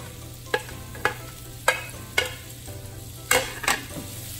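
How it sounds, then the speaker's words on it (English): Onions, peppers and hot dogs sauté in a pan with a steady low sizzle, punctuated by about six sharp, evenly spaced utensil taps and scrapes, close by and without talking. "let's go ahead and saute the onions and the peppers and the"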